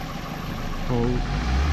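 A 2002 Toyota Corolla 1.8L engine with a lean-running fault idles with a low, steady hum. A brief voice cuts in partway, and the engine's rumble swells slightly near the end.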